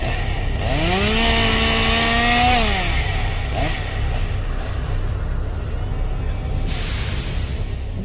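A chainsaw engine at a haunted attraction in Lee, New Hampshire revs up and holds a high, buzzing whine, then settles back to a rough idle amid steady background noise.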